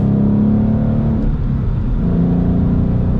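A 2016 Mustang GT on lowering springs cruises along, its engine and road noise forming a steady, loud, low drone heard from inside the car, with no talk.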